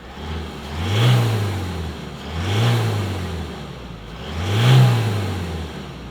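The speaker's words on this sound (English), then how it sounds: "So this is what the BT-50 sounds like when it's revving." A 2021 Mazda BT-50 pickup truck engine revs three times in a slow, even rhythm, each rise swelling and falling back to idle, close and fairly loud.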